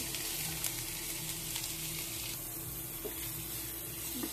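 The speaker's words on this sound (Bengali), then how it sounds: "সেদ্ধ করা চিকেনটা এইভাবে ছাড়িয়ে নিয়েছিলাম, এখন তেলের উপর দিয়ে দেব" Boiled shredded chicken frying in oil in a kadai for creamy chicken pasta, a faint, steady sizzle with a few soft stirring knocks.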